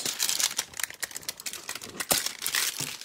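Plastic wrapper of a Donruss football card hanger pack crinkling and tearing open up close, a steady run of sharp crackles and rustles with no talking.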